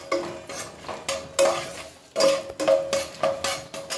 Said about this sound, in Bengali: কাজুটা ভেজে নাও।